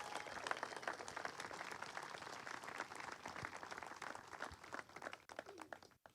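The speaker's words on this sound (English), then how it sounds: "those individuals should get a big round of applause for serving our nation" Applause from the audience at an outdoor street dedication ceremony, a sustained patter of many hands clapping at moderate distance that thins out toward the end.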